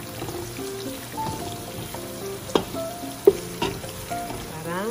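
Garlic and shallots sizzle steadily in a pan for mie goreng, with a couple of sharp utensil clicks and a soft tonal layer underneath, no voices.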